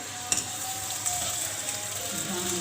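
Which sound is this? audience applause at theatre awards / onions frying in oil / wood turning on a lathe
onions frying in oil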